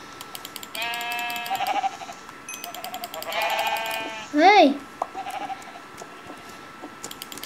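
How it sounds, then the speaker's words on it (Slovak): Sheep in the video game Minecraft let out several loud, wavering bleats spread across the moment, with someone speaking briefly between them over quiet clicking. "Sprostá ovca."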